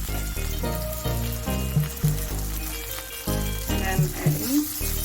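Capsicum and cabbage stir-frying for veg chowmein hiss and sizzle in a hot pan, with repeated stirring scrapes and bursts of background music over the steady frying noise.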